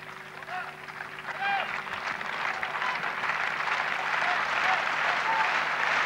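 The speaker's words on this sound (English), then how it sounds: "Rhythmic clapping" A tennis crowd at the 1992 French Open final, Courier versus Korda, clapping together in a dense, sustained wash. Faint commentary and scattered crowd voices sit underneath.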